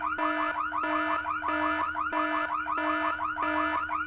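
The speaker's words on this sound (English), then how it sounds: "We have to sound the alarm." An alarm in the point-and-click adventure game Full Throttle repeats a looping two-tone electronic wail in regular cycles of about a third of a second, steady and fairly loud with no other sounds.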